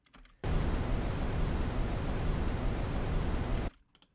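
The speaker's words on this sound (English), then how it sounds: "a simple brown noise sound" Steady, deep rumbling noise, smooth and dense, heavier in the low end, plays alone for a few seconds and then stops abruptly.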